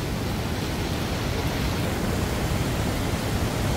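Ssangyong Falls on Dojangsan in Mungyeong, North Gyeongsang, with a large volume of water pouring down, making a steady, dense, close rushing roar that does not let up.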